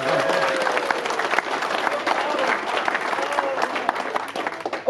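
Applause from the crowd at a Hardware.Info subscriber day event: a sustained patter of many hands clapping at moderate loudness, with voices mixed into it throughout.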